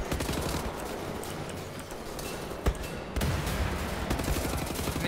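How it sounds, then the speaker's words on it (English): Many guns fire at once in the shooter Wolfenstein: The New Order, a dense, continuous crackle of overlapping shots with one sharp louder bang partway through, fairly loud and busy throughout. "everybody's trying to shoot at the same time"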